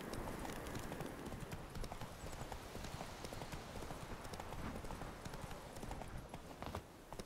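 Horse hooves gallop in The Witcher 3 video game, a rapid, continuous clip-clop at an even pace that stays dense and steady for the whole stretch.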